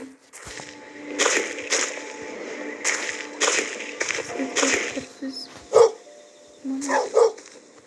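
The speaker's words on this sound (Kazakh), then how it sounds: "Енді бұл жерде олардың шарлаған ит бар" A dog barks repeatedly in sharp bursts with short gaps between them, loud and fairly close, with background voices in between.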